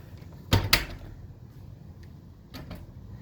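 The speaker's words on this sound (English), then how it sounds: "when you try to close it, the door just pops right open" A Maytag clothes dryer door pops open after being shut on a load of laundry: two sharp, close latch clicks in quick succession, followed a couple of seconds later by a fainter pair of clicks.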